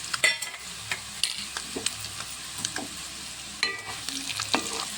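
A garlic and chili powder mixture being stirred slowly in a pan, with repeated scraping strokes over a faint sizzle, close and moderately loud, no talk.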